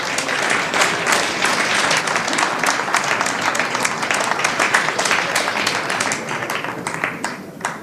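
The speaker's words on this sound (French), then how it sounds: "je pense qu'on peut les applaudir." Loud, sustained applause from an audience at a public information session in Yverdon-les-Bains after a presentation, dense steady clapping filling the whole stretch and tapering slightly at the end.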